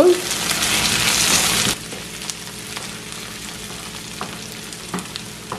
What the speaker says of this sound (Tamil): இன்னும் கொஞ்சம் வதங்க விடுவோம்.